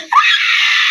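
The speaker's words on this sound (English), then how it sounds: "Why am I screaming?" A woman screams loudly and close by, a single sustained high-pitched scream that starts abruptly and holds steady.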